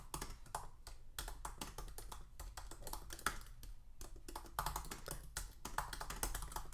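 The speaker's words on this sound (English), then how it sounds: "I'm just typing in some generic discussion, introduce yourself questions" Typing on a computer keyboard, quick uneven bursts of soft key taps close by with brief pauses between runs, fairly quiet and with no voice.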